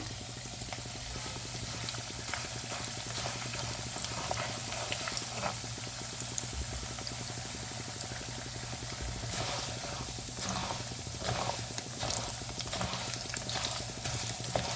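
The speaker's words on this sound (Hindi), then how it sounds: "हमने राइस को पफ कर लेना है। तो हमने ऑयल ले लिया है और हमने इसको गरम कर दिया है" Rice grains puffing in heated oil make a steady, moderately quiet frying crackle and hiss that runs unbroken for about fifteen seconds, with scattered popping ticks and no voices.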